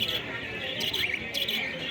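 Many caged finches chirp and twitter together in a dense, continuous chorus at the Garia bird market, close and fairly loud.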